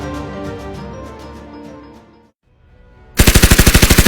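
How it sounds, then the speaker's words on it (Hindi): Rapid machine gun burst fires loud and close in a steady, evenly spaced stream of shots, starting abruptly after a brief silence and continuing without pause. "लगातार फायरिंग हो रही थी।"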